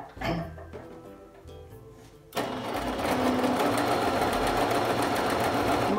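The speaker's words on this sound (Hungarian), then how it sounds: "szépen letűzünk a varrógéppel" Home sewing machine stitching a straight seam along the edge of a fabric face mask; a few short starts, then a steady, loud continuous whir from about two seconds on, close up.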